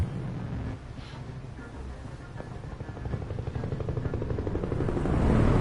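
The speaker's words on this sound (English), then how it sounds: "Helicopter." A helicopter in the video game Nobody Becomes Human builds from a low rumble into a rhythmic rotor thumping that grows louder and nearer toward the end, with a windy background.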